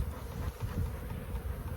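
Honeybees buzz around an open hive during a colony split, a faint low continuous drone with soft wind noise and no voices.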